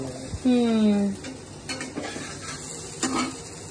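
Poppy seed fritters (posto chapdi) fry in a pan with a light sizzle under the clink and scrape of utensils stirring, opened by a short squeaky tone.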